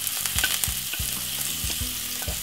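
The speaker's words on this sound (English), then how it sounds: "I'm gonna brown off the onion and the spring onion and all the season one time inside of it like this." Onion and spring onion with seasoning sizzle and fry steadily in hot vegetable oil, stirred with regular scraping strokes, close and alone with no talk.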